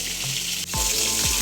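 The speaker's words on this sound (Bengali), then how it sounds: "মাছ ভাজছি, এদিকে ভাত বসিয়েছি" Fish frying in a pan on a home kitchen stove, a close, steady crackling sizzle heard on its own.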